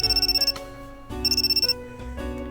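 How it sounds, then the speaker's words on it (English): A phone ringtone in a visual novel video game: an electronic trill pulses rapidly in two bursts, each lasting about half a second, separated by short gaps and followed by a sustained tonal chord, loud and close with no talking. "My phone suddenly rang."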